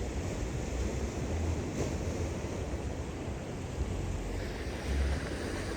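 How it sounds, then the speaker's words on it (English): Soft, steady wash of small waves on a beach, with light wind rustle and no voices. "See what the wave action is like."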